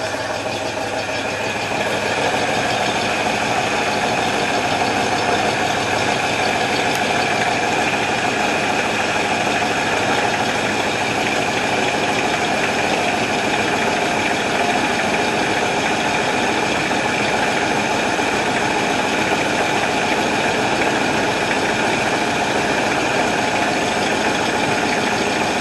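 A car engine idles as it warms up, a steady, close, even rumble with a faint knocking texture and no talking.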